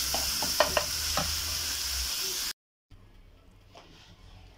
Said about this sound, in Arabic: صافي دارت هاديك البصلة والفلفلة طاحو، مع شوية الملح وشوية البزار فقط، وزدت عليهم كفتة